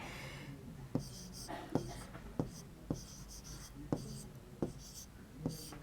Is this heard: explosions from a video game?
no